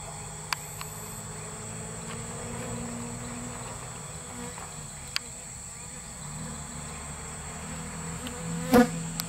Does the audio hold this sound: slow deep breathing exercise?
no